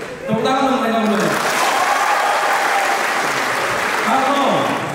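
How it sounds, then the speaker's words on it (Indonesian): A large audience at a university orientation event gives loud, sustained applause for a couple, and a voice talks over the clapping at the beginning and near the end. "Tepuk tangan untuk mereka berdua."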